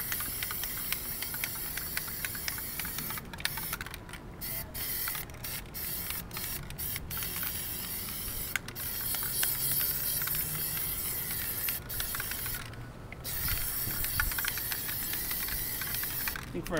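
Plasti Dip sprays from an aerosol can as a continuous loud hiss that goes on with no break, broken only by brief pauses and small shifts in level.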